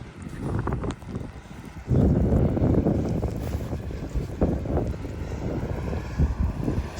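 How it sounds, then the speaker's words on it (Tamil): A snow removal vehicle with blue flashing lights passes during a Canadian snowstorm, a loud rumbling roar that swells suddenly and holds, mixed with heavy wind buffeting the microphone. "ஓ இங்க பாருங்க, இது வந்து ஸ்னோ ரிமூவல்."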